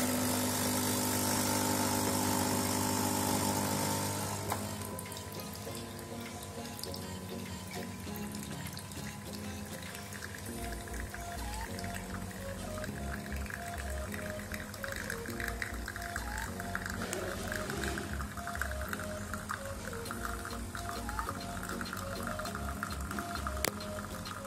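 Nescafe Dolce Gusto Mini Me capsule coffee machine brewing, a loud pump hum for the first few seconds, then a quieter steady gurgling trickle of liquid with faint mechanical buzzing underneath.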